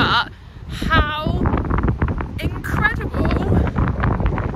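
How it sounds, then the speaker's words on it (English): Strong wind gusts buffet the microphone aboard a boat near Green Island, rumbling loudly and unevenly throughout, mixed with voices talking. "It is so windy and probably so loud"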